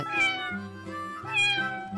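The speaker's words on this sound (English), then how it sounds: "cat." A cat meows twice, two drawn-out close calls with a pause between, over soft background music.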